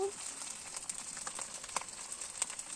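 Meat sizzling in a hot pan after being added, a steady crackling fry with small pops, moderately close and mostly alone.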